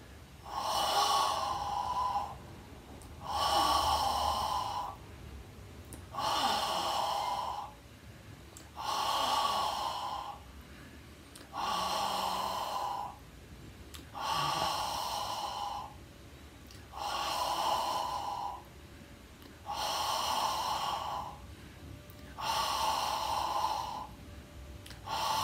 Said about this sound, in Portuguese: vamos trabalhar a respiração